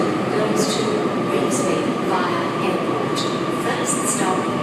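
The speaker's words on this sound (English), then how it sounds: "Waratah A41 arriving on platform 2, Revesby via airport service." A Sydney Waratah A41 train arrives at platform 2 of Circular Quay station with a steady loud rumble and intermittent high metallic squeals, while voices murmur faintly in the background.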